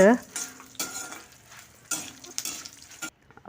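Chillies, including Byadagi chillies, frying with masala in a pan: bursts of sizzle and scraping stirs with quiet gaps, ending in near silence.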